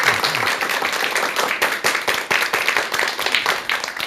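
An audience applauds a lecturer, Dr. Jeon Hyun-soo, arriving to give a mind-therapy talk on friendship. Steady, dense clapping continues throughout at a fairly full level with no speech.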